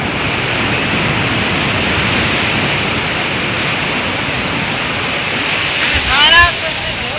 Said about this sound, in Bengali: ঢেউগুলো একদম পাশে চলে আসছে।